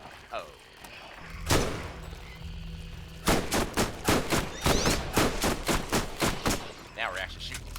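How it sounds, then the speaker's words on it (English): Gunfire from enemy fights in Borderlands 1 in the Dahl Headlands: a lone shot early on, then a rapid string of about a dozen loud, sharp shots in steady rhythm, with players chatting underneath. "now we're actually shooting these guys, right?"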